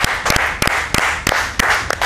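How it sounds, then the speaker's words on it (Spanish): Short, loud bursts of clapping ring out from a television studio audience, arriving in uneven surges a few tenths of a second apart over two seconds. "Diego Rebaniati, un aplauso para él, por favor."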